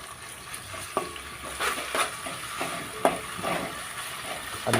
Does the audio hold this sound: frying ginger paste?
yes